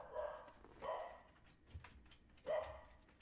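A pet dog lets out three separate barks or whining yelps, spaced unevenly, close and fairly loud, with quieter gaps and small knocks between them.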